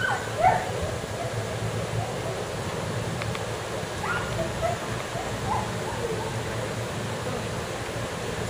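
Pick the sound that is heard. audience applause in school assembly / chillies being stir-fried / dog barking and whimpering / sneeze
dog barking and whimpering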